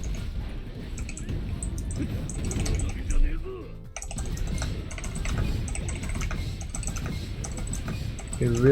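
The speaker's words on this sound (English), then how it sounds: "You really hear me spamming keys right now." Computer keyboard keys spammed rapidly while playing the One Punch Man World game, a dense, continuous clatter of fast key presses up close, blended with game sounds and a brief dip partway through.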